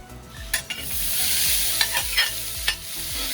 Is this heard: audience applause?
no